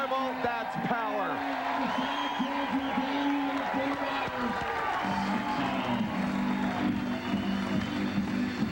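Stadium crowd at a 1997 AVP pro beach volleyball final in Ft. Myers roars and cheers steadily throughout, loud and sustained beneath a commentator's talk.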